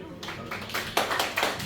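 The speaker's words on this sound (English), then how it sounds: "we have a round of applause" Round of applause for a guest speaker at an Ijaw youth gathering; a few scattered, fairly faint claps building over a second or two, with a voice faintly present beneath.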